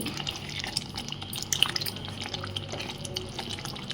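Mushroom curry simmers in a pan as oil rises to the surface, making a steady, soft bubbling and popping texture with faint drips, near and continuous.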